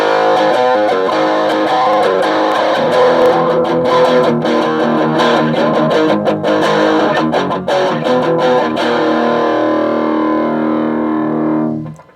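A driven electric guitar through a Fender Blues Junior tube amp with a Dumble-style FET input, volume on max and master on min, plays sustained chords and riffs with mild crunch for about twelve seconds, loud and steady, then cuts off abruptly.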